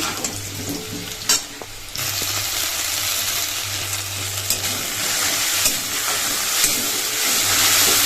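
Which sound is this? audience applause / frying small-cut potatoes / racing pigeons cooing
frying small-cut potatoes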